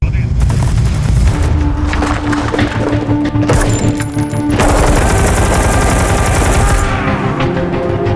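Loud, dense sniper gunfire rattles continuously as Ukrainian snipers fire on Russian troops, rapid shots and booms layered together with a dramatic, cinematic mix and a voice talking over it.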